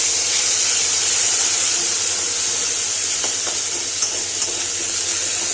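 Five-spice tempering sizzles in hot oil, a loud, steady frying hiss with a few faint pops and clicks, and no talking over it.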